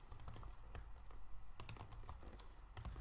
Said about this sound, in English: Alright, just type all that out.